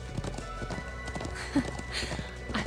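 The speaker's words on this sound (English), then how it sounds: "Glad I still remember how to ride a horse." Rhythmic hoofbeats of a galloping horse clatter steadily over a soundscape from the video game The Legend of Heroes: Trails of Cold Steel II, with a brief louder thump midway.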